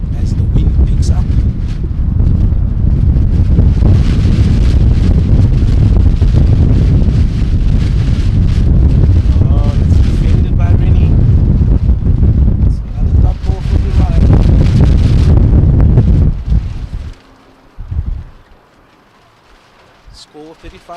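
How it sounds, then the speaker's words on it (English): Strong wind buffets the microphone at an outdoor over-40s masters cricket match, a loud continuous roar that drops away abruptly near the end, leaving quieter background. "As the wind picks up,"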